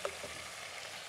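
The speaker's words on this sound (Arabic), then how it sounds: "فاحنا هنا بنشوح البصل معاه والجزر اهو" Onion and carrot sautéing in a pan for Saudi kabsa, a soft, steady frying hiss throughout, faint and close, with a brief utensil tap at the start and no talking.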